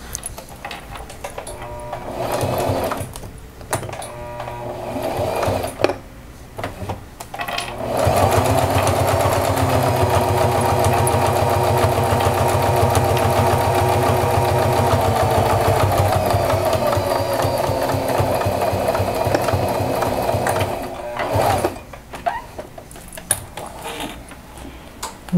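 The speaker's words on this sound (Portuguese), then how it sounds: "nós vamos passar a costura na parte de curva do bolso primeiramente" Sewing machine stitching the curved seam of a fabric clutch bag pocket: a brief stop-start burst, then a long, steady, close mechanical whir that cuts off abruptly, followed by quiet handling sounds.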